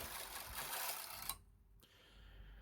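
A Knitmaster Mod 150 knitting machine knits a tuck stitch, a quiet mechanical swish of the carriage followed by a soft click and lighter rattling, close by with no talk.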